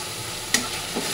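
Spice masala of ginger paste, coriander, chili powder, cumin and turmeric, with salt and a splash of spice-rinse water, frying in a pan: a steady close sizzle with one sharp stirring scrape midway and a softer one near the end.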